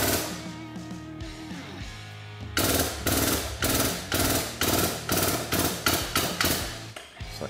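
A ball joint is pressed into the lower A-arm of a Polaris Ranger XP1000, heard as a run of loud, close, repeated hammering impacts after a quieter mechanical stretch, with no talk.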